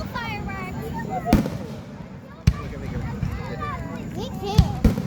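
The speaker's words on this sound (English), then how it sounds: "Double fireworks." July 4th fireworks in Tallahassee, Florida: several sharp bangs scattered at uneven intervals, some near and some farther off, under voices that chatter and call out throughout.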